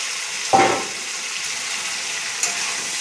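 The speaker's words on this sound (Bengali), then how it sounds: "মশলা কষানো হয়ে গেছে, ডাটা আলুর ভাজাটা দিয়ে দিলাম।" Fried stems and potatoes dropped into a pan of spice masala that is already sizzling, giving one brief burst of sizzle near the start and then a steady frying hiss. A faint clink follows later.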